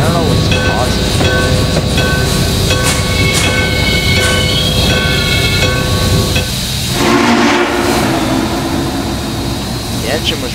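Denver & Rio Grande Western number 14, a steam locomotive, runs steadily with a loud continuous mechanical rumble and sustained tonal hum. A brief shift in the noise comes partway through, and the sound stays dense and close throughout.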